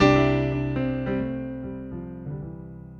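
Piano chords played with the sustain pedal held down, a loud opening chord ringing out and blending with several softer chords that follow, all decaying together into a warm sustained wash, with no voice.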